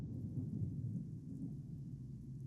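Thunder from a lightning attack in the video game Pale Coins, a continuous deep rumbling roll with rain-like hiss, heard alone without talk.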